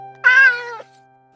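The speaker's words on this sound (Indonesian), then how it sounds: "Dasar kucing gembul." A single loud, close cat meow, drawn out for about half a second with no voices alongside.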